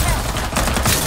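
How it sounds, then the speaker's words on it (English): A short, loud burst of rapid gunfire in the battle royale shooter Farlight 84, with crackling shots packed tightly together. "Firing will commence shortly."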